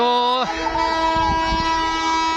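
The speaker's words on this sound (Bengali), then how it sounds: "ঢুকে গেল ট্রেন" A train pulling into a station gives a short horn blast, then a sustained tonal drone and rumble as it draws in, with voices faintly in the background.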